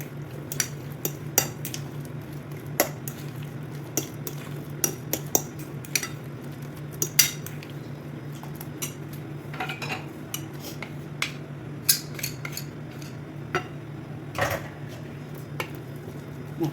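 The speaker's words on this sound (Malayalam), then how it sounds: "കൂടെ ചേർത്ത് നന്നായിട്ടൊന്ന് മിക്സ് ചെയ്തെടുക്കണം." A spoon mixing thick cream in a bowl while making a spicy creamy chicken wrap, giving scattered light clinks and scrapes against the dish over a low steady hum, with no talking.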